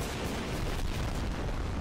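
Continuous rumbling booms and crackling blasts from animated Skibidi Toilet explosions, dense and loud throughout, like a steady barrage of cartoonish explosions with no pauses.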